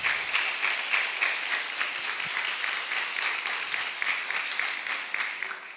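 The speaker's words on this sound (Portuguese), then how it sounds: "Palmas." Audience applause fills the room, a dense steady wash of many hands clapping throughout, fairly close and loud with no voices on top.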